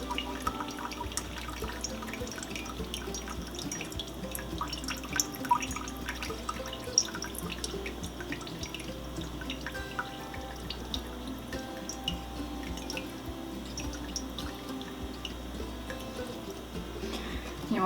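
Grease drained from cooked low-fat ground beef trickles and drips into a container, a faint, quiet run of liquid with small irregular drips over a low steady background hum.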